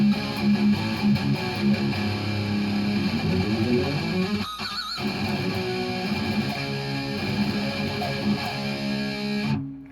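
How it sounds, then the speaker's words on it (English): Distorted electric guitar plays rhythmic down-picked pedal-tone gallops, loud and steady for about ten seconds with a short break in the middle, and no voices. "That's a rhythmic way of using the down-picked, pedal tone like that."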